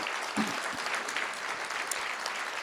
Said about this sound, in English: Let's give Noah a round of applause.